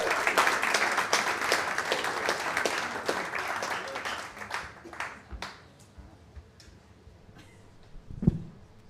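Audience applause at a live comedy club show, dense and loud at first, then thinning to scattered claps and fading over several seconds.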